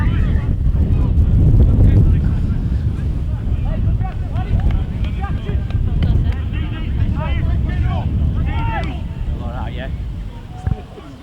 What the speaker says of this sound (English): If you can hear the buzz, we've got a drone above us